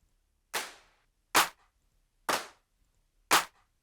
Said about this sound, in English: I think you want to go for a pretty lush kind of pre-shifted clap kind of thing.